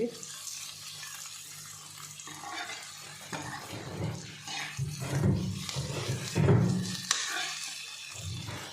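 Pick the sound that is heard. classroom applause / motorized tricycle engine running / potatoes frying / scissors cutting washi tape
potatoes frying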